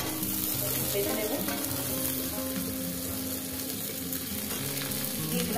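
Red lentils and drumstick stalks fry together in a pan with a steady, dense sizzle, joined by stirring scrapes and clatter throughout, close and continuous, with no talking.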